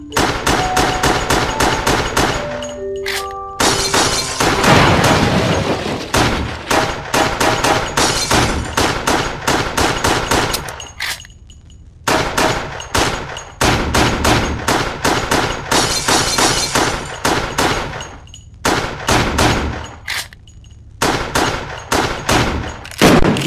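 Loud, rapid gunfire bursts crack repeatedly in the Wii game Resident Evil: The Darkside Chronicles. Long strings of close shots are broken by a few brief pauses, with metallic impacts mixed in.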